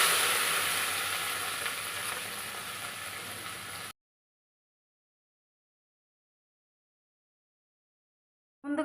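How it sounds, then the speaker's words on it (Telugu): Curry leaves and dried red chillies fry in hot oil in a pan for a ridge gourd dal, a close, steady sizzle and crackle lasting a few seconds before cutting to silence. "కరివేపాకు బాగా ఫ్రై చేసుకోవాలి"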